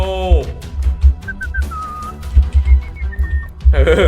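A person whistles a few short rising and falling notes during a Roblox Evade game, heard close up among game sounds, bursts of music and excited talk.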